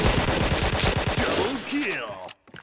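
Rapid automatic fire from a K2C EBR rifle in a mobile shooter game, a loud, dense string of close shots lasting about two seconds before cutting off abruptly.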